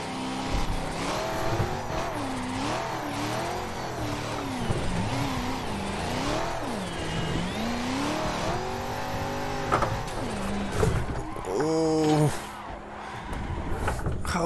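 A BMW E92 engine revs hard in third gear on track, its pitch sweeping up and down in repeated throttle blips, with tire squeal and brief talk mixed in before the revs settle.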